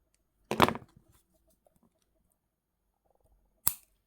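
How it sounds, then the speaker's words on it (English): Wire cutters snip excess wire from a jewellery pendant, two sharp crisp clicks spaced about three seconds apart in near silence. "Cut off the excess and press them around into place."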